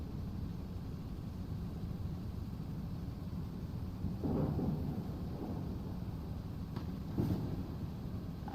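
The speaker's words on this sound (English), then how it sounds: "And the thunder sounds pretty good." Low rumbling thunder rolls through a steady wash of rain-like noise in the mining game Out of Ore, swelling in two soft, distant surges before settling back.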